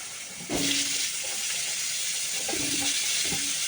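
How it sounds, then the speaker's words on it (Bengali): Potatoes frying in a pan with mustard seeds, a steady loud sizzle and hiss that swells as the food goes in, with a few short clinks of a utensil against the pan. "আলুটা দিয়ে একটু ভাজা ভাজা করে নিই"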